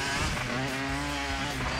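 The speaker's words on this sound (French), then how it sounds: "C'est normal qu'il y ait un bruit de moto vu qu'on est sur une moto" A motorcycle engine in the video game Trials 2 drones steadily and loudly at high revs, a dense continuous buzz with no pauses and no voices.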